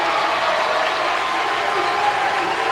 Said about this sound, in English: the Raider fans starting to get loud